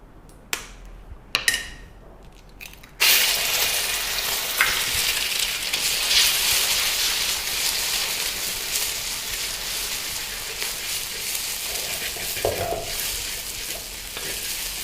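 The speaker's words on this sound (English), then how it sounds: "Let's add a teaspoon of oil and quickly break an egg" An egg cracked into a smoking-hot oiled wok: a few sharp taps and clicks, then a sudden loud burst of sizzling that stays strong and crackling, fading slightly over several seconds, close up with no talk.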